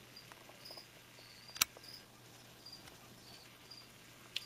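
Crickets kept as feeder insects for baby leopard geckos chirp quietly and steadily in the background, a faint high trill with a couple of sharper clicks, no voices.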